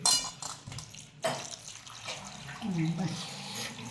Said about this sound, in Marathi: चांगली धुली आता दुसऱ्या पाण्यात धुवायची थोडी